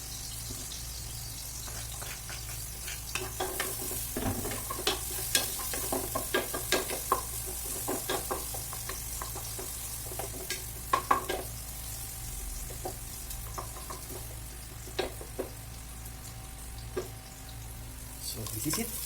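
Garlic and onion frying in a pan for chicken wings caldereta, a steady sizzle with scattered clicks and scrapes of stirring throughout, moderately close and with no talk.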